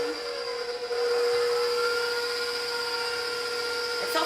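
An electric mixer whirs steadily through low carb pound cake batter, a constant high motor whine that holds unbroken for the whole stretch with a small bump near the end.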